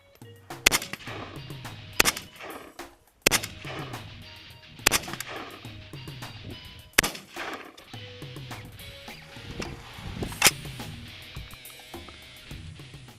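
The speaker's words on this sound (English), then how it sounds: "let's try and see how good it shoots in terms of accuracy." Single shots from a Zastava N-PAP Kalashnikov rifle on a range, loud sharp reports spaced one to two seconds apart, each followed by a short echoing tail, with no talking.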